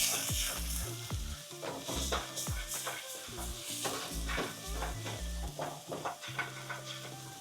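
Seasoning of coriander, seasoning salt, white pepper and chili flakes stirred into a sizzling pot, a steady hot fry crackle with repeated scraping strokes and low knocks of the spoon against the pot, close and continuous.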